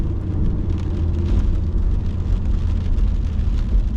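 Steady rain hisses continuously with a low rumble underneath in Minot, North Dakota, like a downpour heard from indoors or under cover.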